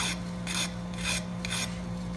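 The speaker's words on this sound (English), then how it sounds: "Depending on how coarse your file is, you're going to be taking off metal fairly quick." A coarse hand file rasps against metal while a key is cut for an antique roll top desk, making four loud, rhythmic back-and-forth strokes close up with no talking.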